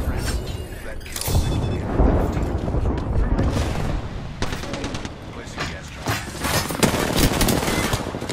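Apex Legends gunfire in a firefight, loud rapid automatic bursts and sharp shots with booming impacts, close and continuous, heard under spoken character voice lines.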